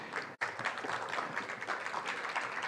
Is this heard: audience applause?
yes